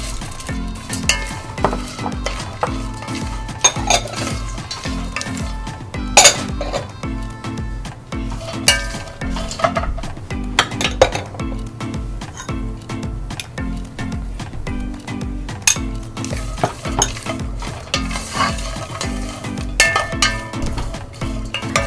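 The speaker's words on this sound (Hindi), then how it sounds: "इसे 1 मिनट के लिए पकाएंगे, हल्का सा रोस्ट करेंगे" Mixed dry fruits roasting in hot ghee for halwa, a steady sizzle with rhythmic stirring and light metallic scraping of the spoon against the pan, close and continuous, with no talking.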